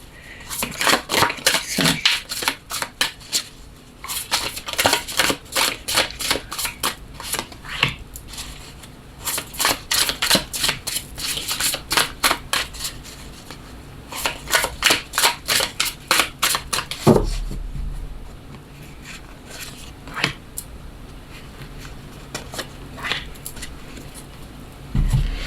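Osho Zen tarot cards are shuffled by hand in long runs of rapid riffling flicks and papery slaps, close and crisp, with brief pauses between bursts and no talking.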